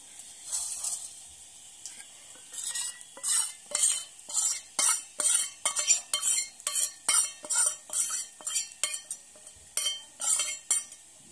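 A spoon stirs buttermilk kadhi batter in a bowl, a steady rhythm of wet swishing strokes with light scraping against the sides, close and clear with no talking.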